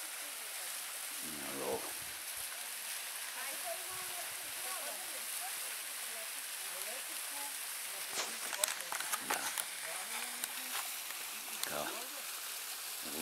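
The Dobarsko waterfall makes a steady, faint broadband rush of falling water throughout, while people speak briefly over it.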